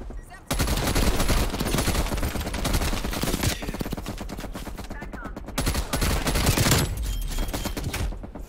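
Sustained rapid gunfire in the video game Call of Duty Cold War, loud and dense bursts of automatic fire with short gaps, continuing almost without a break.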